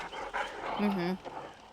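The killer's hound in Dead by Daylight pants in short, quick breaths with a small whimpering tone, close and fairly quiet, while a voice speaks over it.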